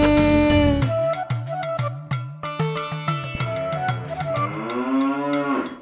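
Cattle mooing in a children's Tamil rhyme, a loud drawn-out low moo opening the clip, followed by a bouncy musical accompaniment with bell-like tones and further sustained moo-like calls.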